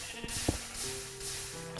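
Sheep in the video game Minecraft bleat in short game-sound calls over a steady low ambient hum, the bleats moderately loud and close.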